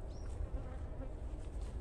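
Honey bees (Apis mellifera) buzzing around a wooden beehive box just fitted with an extra super, a faint continuous drone with a few passing whines close by, no voices.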